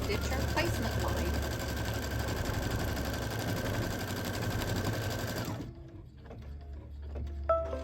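A sewing machine stitches a placement line in white thread with a loud, steady, fast mechanical whir for about five seconds. It then stops abruptly, leaving quiet handling sounds and a few light clicks.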